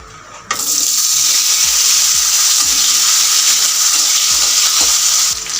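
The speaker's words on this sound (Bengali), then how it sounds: "ফোড়ন থেকে যখন সুন্দর একটি ঘ্রাণ আসবে তখন এর মধ্যে আমি টুকরো করে রাখা আলু দিয়ে দিব" Potato pieces hit hot oil tempered with whole cumin, bay leaf and dried chilli, bursting into a loud, close, continuous sizzle, with spoon clacks against the pan repeating every second or so.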